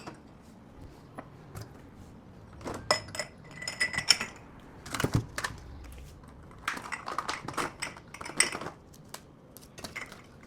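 Thin plastic bowls and glasses, one cup still coated in yogurt, clink and knock as they are loaded upside down into a home dishwasher, in scattered bursts of close, light taps with no talking.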